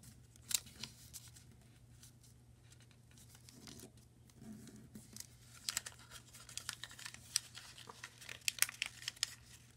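Paper creases and crinkles as an origami model is folded by hand, soft rustles and sharper crisp snaps that grow busier toward the end, close and quiet with no talking.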